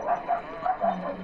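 Dog barking in a Roblox horror game, four short yapping barks in quick succession at close range, with a low hum underneath.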